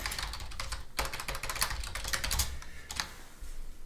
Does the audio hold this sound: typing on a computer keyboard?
yes